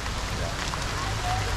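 Rain falling steadily on a rainy day at a wildlife sanctuary outdoors, a dense, even hiss of drops close by, with faint background voices mixed in throughout.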